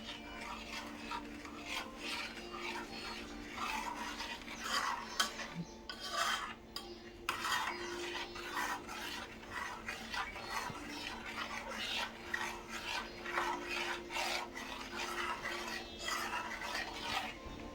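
A spoon scrapes and rubs steadily against a pan as a thickening jaggery mixture is stirred, a quiet, continuous rasping sound with no talking.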